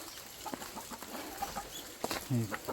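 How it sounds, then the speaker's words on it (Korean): Faint clucking of chickens being put into a coop comes through soft background noise, with a few short bursts near the end. "닭장에 닭을 넣고"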